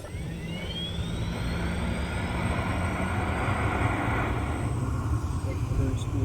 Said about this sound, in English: And running up engine 2.